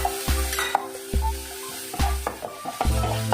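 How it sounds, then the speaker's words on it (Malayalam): Ginger-garlic paste of crushed ginger and about six garlic cloves fries with sautéed onions in a pan, a steady close sizzle broken by repeated rhythmic scrapes and taps of a spoon against the pan. "ഉള്ളി വഴറ്റി ഒരു 2 മിനിറ്റ് ആവുന്ന സമയത്ത് നമുക്ക് ഇതിലേക്ക് 1 ടീസ്പൂൺ ഇഞ്ചി വെളുത്തുള്ളി പേസ്റ്റ് ചേർത്ത് കൊടുക്കാം"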